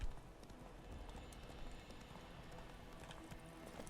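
Horse hooves clop along in The Witcher 3, a quick steady run of hoofbeats over a low outdoor ambience, moderately faint with no talking.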